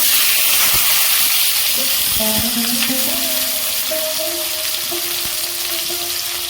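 Bay leaf, whole cumin and chopped tomato fry in hot oil with a loud, continuous sizzle and hiss. Faint stirring clinks and tonal pan sounds run through it.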